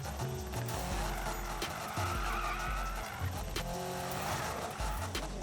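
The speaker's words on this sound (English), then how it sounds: "Every corner when you have to shift gears and drift." Car drifting in Need for Speed (2015), with engine notes rising and dropping through gear shifts under a long, steady tire squeal that runs through the whole stretch.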